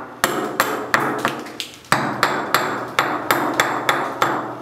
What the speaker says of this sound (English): beating up the material on the wood using the razor part of the slag hammer